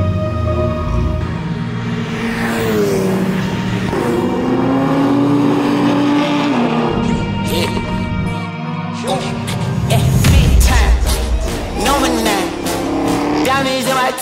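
Track-day cars run the Donington circuit during a warm-up session, with engines revving and rising through the gears as they pass at varying distances, while people talk over the engine noise.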